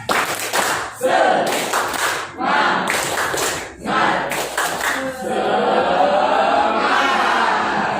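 A school class claps out a patterned spirit cheer, several loud bursts of unison clapping separated by short gaps, with the children chanting along close by.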